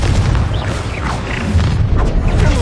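Confringo fire spell exploding in the Hogwarts Legacy video game, a loud sustained rumbling blast with dense low-end roar and scattered crackles filling the whole moment.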